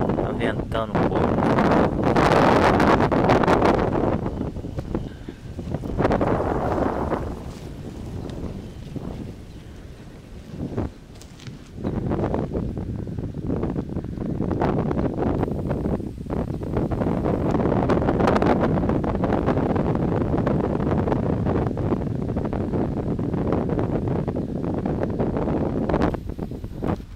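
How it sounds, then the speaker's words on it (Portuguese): Wind gusting at a hilltop viewpoint over the town of Serra Azul, São Paulo, a loud steady rush buffeting the microphone throughout, with a brief lull near the middle. "Ventando um pouco."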